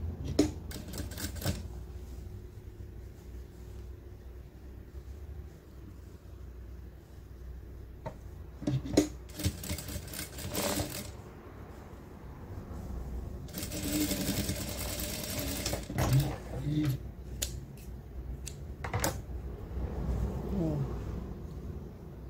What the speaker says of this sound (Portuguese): eu vou tá batendo a costurinha aqui